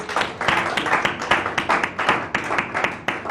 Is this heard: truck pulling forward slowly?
no